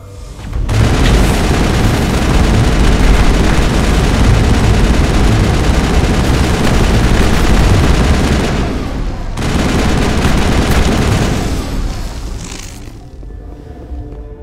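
Sustained, loud weapons fire in a Mass Effect firefight inside a lab, a dense crackling barrage running nearly nonstop with a brief break before resuming, then tapering off at the end.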